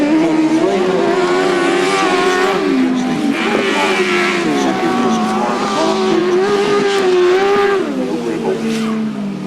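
Grasstrack motorcycles at a 2007 grasstrack meeting sweep into the pits corner, a sustained loud, wavering engine whine rising and falling as the pack passes, with an announcer's voice underneath.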